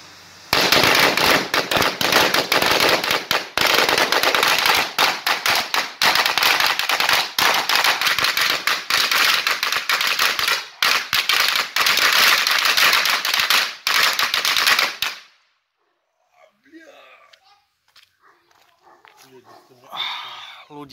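Dense, nonstop crackling of New Year's Eve firecrackers and fireworks in a Slovak village, loud bursts rattling for about fifteen seconds before cutting off to near silence with faint distant pops.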